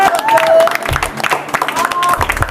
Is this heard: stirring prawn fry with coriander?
no